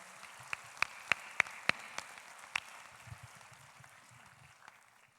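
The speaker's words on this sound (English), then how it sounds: "Could we have another round of applause for our 7th graders?" Scattered applause from a school opening-ceremony audience for seventh graders: a handful of sharp, distinct claps in the first few seconds, then thinning to a few faint claps over a quiet background.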